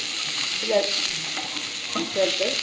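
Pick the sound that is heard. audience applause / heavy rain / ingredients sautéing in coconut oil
ingredients sautéing in coconut oil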